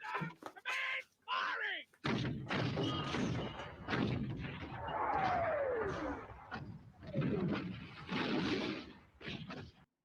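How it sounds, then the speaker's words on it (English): Artillery barrage on German positions near the Belgian-Dutch border in the 1977 war film A Bridge Too Far, heavy booms and thuds running for several seconds under and between people talking. "They're throwing a lot of artillery on the German positions"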